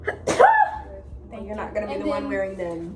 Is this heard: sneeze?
yes